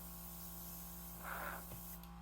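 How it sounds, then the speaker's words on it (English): A spray gun sprays holographic paint onto a racecar, a brief soft hiss of about half a second over a steady background hum, faint and without voices. "I can see it coming out of the spray gun."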